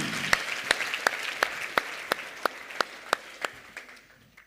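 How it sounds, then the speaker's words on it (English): At an entrepreneurs forum, the welcome for a Q&A panel comes as sharp, evenly spaced claps, about three per second, sounding over a soft crowd murmur and gradually fading out. "let's give them a round of applause."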